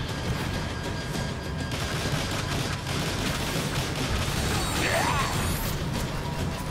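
Rapid, dense gunfire and crashes from the Transformers War for Cybertron video game, a loud continuous barrage with no breaks.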